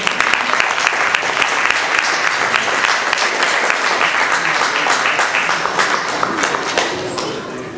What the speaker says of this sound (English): Can we please have a round of applause for Srimati Uma Rajasekharan?